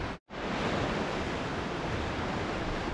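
Ocean surf rolling onto the rocky coast near Lynmouth by the Valley of Rocks, heard as a steady broadband wash with some wind rumble, briefly cut out near the start, then continuing evenly.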